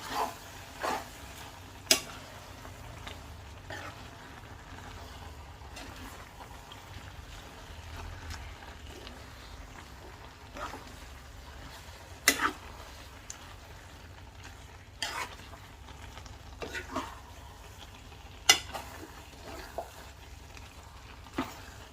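Food sizzles steadily in a frying pan, pork belly stir-fried with shallots, while a utensil scrapes and clanks against the pan in scattered, irregular strokes, close by and fairly quiet.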